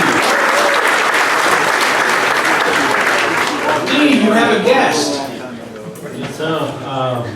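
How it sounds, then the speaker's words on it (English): Applause for club leaders at a Rotary meeting, loud sustained clapping from a room of people that fades out as voices begin talking. "Give them a round of applause, please."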